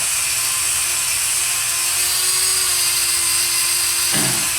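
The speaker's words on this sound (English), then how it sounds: "This is just a wire brush." A power tool spins a wire brush during VW 1776 engine assembly work, giving a steady, loud whirring hiss with a thin sustained whine that drops away near the end.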